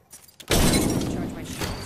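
A frag grenade in Apex Legends bursts after a short quiet lead-in, a sudden loud boom that settles into a sustained rumbling wash of debris and noise.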